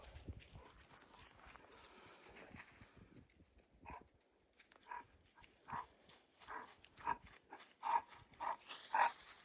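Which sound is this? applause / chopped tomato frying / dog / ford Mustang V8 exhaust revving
dog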